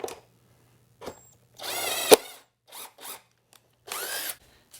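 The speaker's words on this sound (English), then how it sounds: "I'm going to drill my next hole." A power drill whirs in short bursts while drilling a hole in wood, one longer run and several brief spurts, with quiet gaps in between; close and fairly loud.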